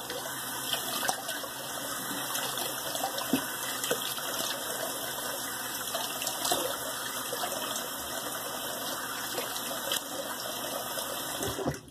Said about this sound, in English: now a cold rinse